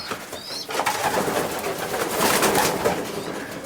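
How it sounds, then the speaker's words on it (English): A pigeon in a loft coos softly and repeatedly beside a nest, with faint rustling and loft ambience around it and no one speaking. "But a beautiful pigeon."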